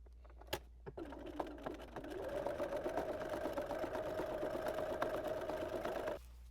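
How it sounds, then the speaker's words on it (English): A sewing machine top stitches along a quilted tote bag handle, starting after a few clicks and then running at a steady, even hum for several seconds before stopping. "I'm just going to follow the existing line of top stitching as closely as I can, starting and stopping at the pins"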